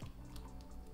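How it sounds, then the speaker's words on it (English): Piña colada being poured into a glass, a brief close liquid splash and drip, soft and short with no talking. "So we're gonna pour it into our glass."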